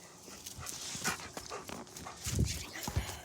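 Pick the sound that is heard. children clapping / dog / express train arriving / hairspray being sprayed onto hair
dog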